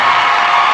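A comedy show audience cheering and whooping, a loud dense wash of crowd noise that fills the whole moment without pause.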